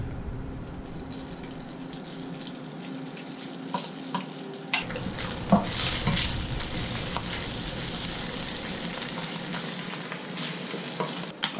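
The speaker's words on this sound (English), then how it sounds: "And stir fry the skin." Rotisserie chicken skin stir-fried in oil for fried rice makes a continuous crackling sizzle with scraping stirs, growing louder and busier midway, close and without talking.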